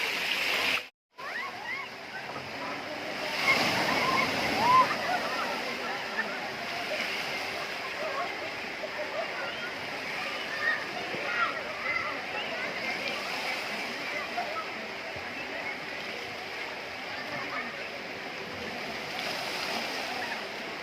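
Children splash and play in a resort swimming pool at Ghatkesar, a continuous wash of sloshing water and splashes with distant shouts, the noise swelling after a brief dropout near the start.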